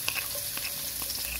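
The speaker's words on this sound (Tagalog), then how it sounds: "Mainit na yung mantika, lalagyan natin ng" Garlic sizzles steadily in hot cooking oil for spicy pork binagoongan, a dense continuous hiss that stays close and even throughout, with no talk.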